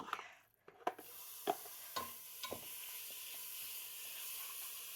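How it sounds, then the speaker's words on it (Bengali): Chicken marinated with garlic powder and mixed spices fries in a pan, a steady soft sizzle with a few scattered clinks and stirring knocks near the start, fairly quiet overall. "সো আমি আমার চিকেনটা ফ্রাই করে ফেলছি"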